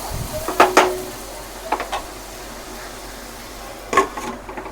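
A metal spoon clanks against a pot of bitter gourd and pumpkin curry in a few sharp knocks, then a lid clatters into place, with quiet gaps and a low background hum between the hits.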